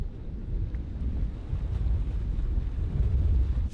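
Rough open water churns while strong wind buffets the microphone, making a continuous low rumbling wash with irregular surges and no voices.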